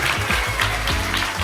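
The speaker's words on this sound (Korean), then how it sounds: "하나님께 영광의 박수를 올려드렸습니다." Young elementary-school children clap and applaud together in a small, crowded school room. The sound is a dense, continuous wash of hand claps, fairly loud and close, over a low murmur.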